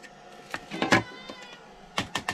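A domestic cat meows several times beside a cat trap, a few clear close calls followed by a quick trio of shorter meows, with soft handling noises between them.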